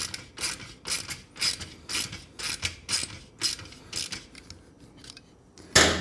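Ratchet wrench tightening the exhaust muffler bolts on a Triumph Bonneville T100/T120 during a Predator carbon exhaust install, a run of quick clicking bursts repeating close up, ending with a louder clunk.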